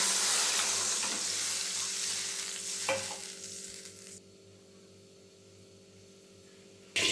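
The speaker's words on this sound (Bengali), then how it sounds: "দু মিনিট জাল দেওয়ার পরে দেখুন জলটা কত ভালোভাবে ফুটে উঠেছে" Mustard hilsa gravy cooks in a pan with a continuous hissing sizzle and bubbling, one brief knock near the middle, before the sound drops to a quiet low hum.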